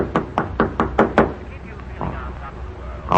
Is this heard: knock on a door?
yes